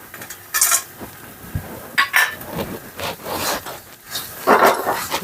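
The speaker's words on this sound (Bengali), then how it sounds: "বড়িগুলো দিয়ে আমি একটু নেড়ে নিচ্ছি" Lentil dumplings (bori) being stirred in a cooking pan, with irregular scraping of a utensil and clinks against the metal pan, close by and fairly loud, with no talking.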